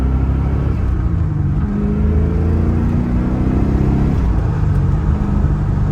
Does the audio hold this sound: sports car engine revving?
yes